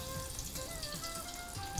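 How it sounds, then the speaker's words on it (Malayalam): Vermicelli sizzles in ghee in a pan for Onam payasam, giving a steady, close crackle and hiss throughout without talking. "സേമിയ വറുത്തെടുക്കാനായിട്ട്."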